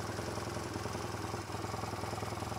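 A motorcycle engine idles after an oil change, with a quiet, even, rapid low pulsing that holds steady throughout.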